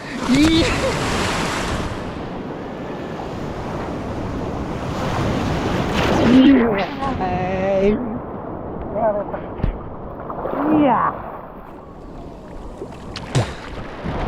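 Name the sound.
sea waves at a beach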